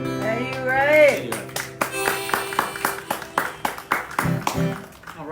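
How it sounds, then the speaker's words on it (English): A courtyard concert audience claps loosely after a song, scattered and uneven hand claps mixed with a held guitar or accordion chord and a voice at the start. "it's great to hear claps"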